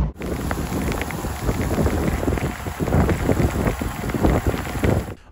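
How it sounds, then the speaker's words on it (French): Heavy rain lashes down hard enough to resemble hail, a dense, loud, continuous hiss and patter with some wind noise throughout, no voices. "Ouais, ça pleut fort là. C'est gagné de la grêle, tellement ça fouette."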